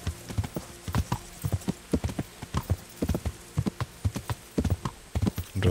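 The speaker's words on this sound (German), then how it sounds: "Und dann reiten wir mal hier in einem langsamen Galopp." A horse gallops in the medieval video game Kingdom Come Deliverance, with rhythmic clusters of hoofbeats on the ground continuing steadily and close, unaccompanied by any speech.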